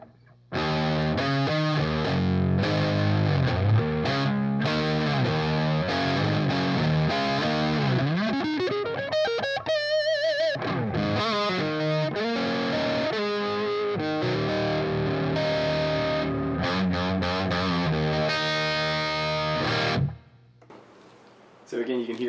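Gibson ES-137 electric guitar on the neck pickup, played with distortion in a continuous run of chords, bends and fast lead lines, loud and close before stopping abruptly near the end.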